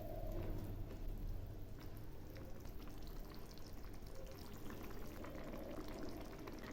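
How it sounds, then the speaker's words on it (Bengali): Fish curry gravy with fried lentil dumplings simmers gently in a pan, a steady soft bubbling and popping that runs throughout at low level with no talk. "ঝোল একটু একটু ফুটছে।"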